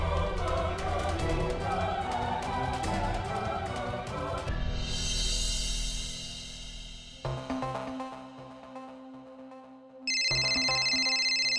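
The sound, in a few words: phone ringtone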